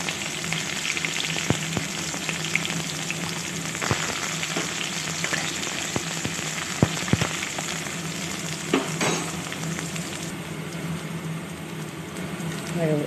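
Onion and green chili hit hot mustard oil with cumin in a kadai over a gas flame for an Assamese village pork dish, giving a loud, continuous sizzle with scattered crackles and stirring scrapes.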